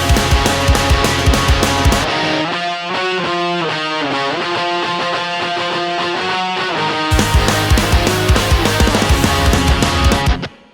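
Distorted pop punk electric guitar strums, then a cleaner stretch of ringing octave notes moving up and down before the heavy strumming returns; loud, no voices.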